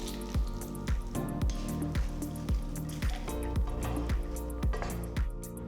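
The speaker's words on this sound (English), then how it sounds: "pour it over the rice rava mixture and give everything a final good mix." Hot tempering poured over a rice rava mixture for lemon upma, then stirred through: a steady run of wet squishing, dripping pulses at a regular rhythm, close and moderately loud, with no talk.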